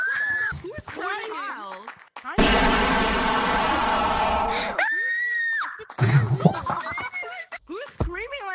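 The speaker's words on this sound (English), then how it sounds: "Who is screaming like that?" A player in Gorilla Tag voice chat lets out a long, loud, harsh scream lasting a couple of seconds, with high-pitched chattering voices before and after it.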